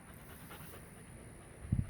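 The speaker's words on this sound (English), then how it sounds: "It's a good dog. Good tempered dog." A 14-week-old Rottweiler puppy pants softly nearby, quick faint breaths over low room noise, ending with a slightly louder huff.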